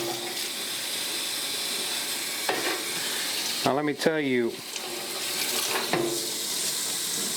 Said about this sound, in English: I'm gonna give this all a good rinse and get water on my floor while I'm at it